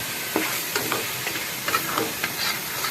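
Garam masala, whole spices and two whole green chillies frying in hot oil for mutton pulao, a soft continuous sizzle broken by several short stirring scrapes and crackling bursts, close and fairly quiet, with no talking.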